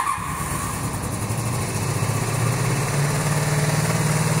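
Cafe racer motorcycle engine idling slightly high while warming up, a steady close putter that rises and firms up toward the end, no speech.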